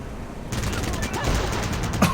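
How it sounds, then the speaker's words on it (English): Dense machine gun fire in the video game Fallout Tactics, rapid continuous bursts, loud and close, with a voice talking over it. "Here comes the machine guns!"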